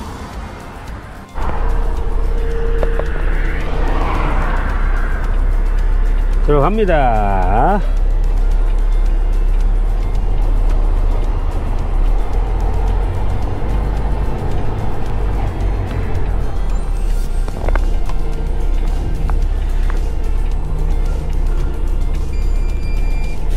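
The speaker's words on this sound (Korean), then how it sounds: "트럭을 빼서 가겠습니다" A moving truck pulls out of a residential driveway with its engine running, a steady low rumble held close throughout while someone talks over it now and then.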